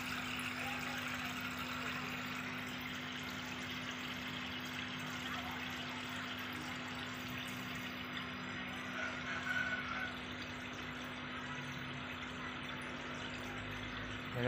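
A SOBO WP-320F aquarium filter pump sending water pouring down into the tank, a steady continuous trickling splash with a low constant motor hum, no talking.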